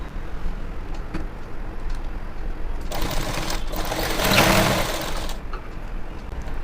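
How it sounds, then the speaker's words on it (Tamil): A sewing machine stitches folded pant fabric for a gathered pant, a soft continuous whir that swells louder for a few seconds in the middle, then drops back. "அப்படியே மடித்து தைக்க போகிறோம்"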